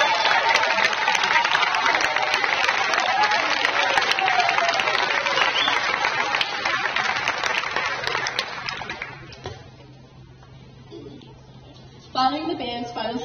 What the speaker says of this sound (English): One big round of applause for those students.